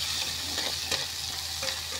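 Mustard seeds, cumin, green chilli and garlic sizzle steadily in hot oil on a wood-fired chulha while being stirred, with a continuous close frying hiss broken by a few sharper scraping stirs.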